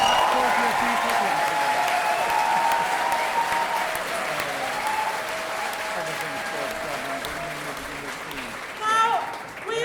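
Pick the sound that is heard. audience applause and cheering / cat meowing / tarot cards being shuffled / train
audience applause and cheering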